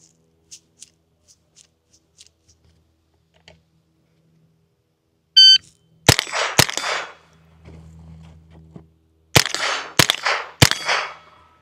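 Pistol shots ring out in a Steel Challenge run on steel targets: a beep starts two quick cracks, then a pause and a burst of four rapid cracks, each one sharp and close with a short metallic ring after it.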